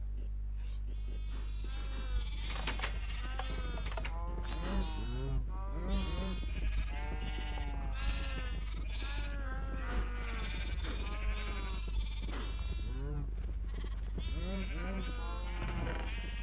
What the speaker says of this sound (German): wir haben einfach viel zu viele kleine Schafe